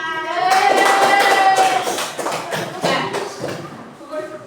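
Grade 4 pupils in a primary school classroom clap their hands in a lively burst of applause that tapers off, with children's voices heard through it.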